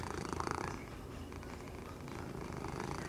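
A kitten purrs steadily and close up, a continuous low rumbling hum with a soft rhythmic pulse that holds at an even level throughout, no voices heard.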